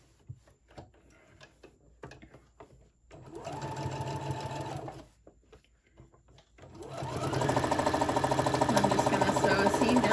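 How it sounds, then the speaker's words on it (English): An electric sewing machine stitches the sides of a fabric face mask in two runs: a short whirring burst, then a longer, louder steady run. A person talks in the pauses between them. "I'm just sewing each side together."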